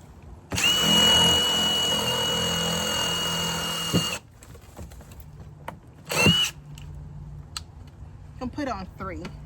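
A power drill bores drainage holes into the bottom of a plant container for a pomegranate tree, a loud whirring burst of a few seconds followed by a shorter second burst, with quiet handling noises and some talk in between.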